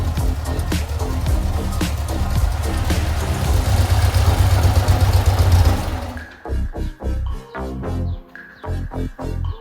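A freshly built VW Type 1 1600cc single-port engine with dual carburetors idles loud and steady, then abruptly cuts out. Scattered clicks and knocks follow in the quiet.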